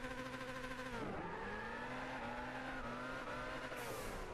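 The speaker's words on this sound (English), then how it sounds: "let's just test out this burnout" In the Gran Turismo 6 racing game, a car does a burnout: a loud, continuous engine roar and rising tire squeal with a dip in pitch, then steady screeching wheelspin.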